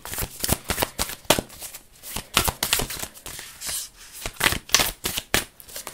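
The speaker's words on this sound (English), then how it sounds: "so I've really shuffled the cards" A deck of tarot cards being shuffled by hand, close up, with a rapid run of crisp riffling flutters and soft slaps repeating steadily, with no one speaking.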